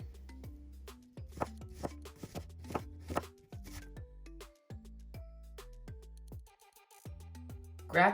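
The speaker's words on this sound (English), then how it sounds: "Now finely slice your onions." A knife finely slices onions on a cutting board, with a series of crisp, uneven taps and thuds close by. Tonal background music plays throughout, and there is no talking.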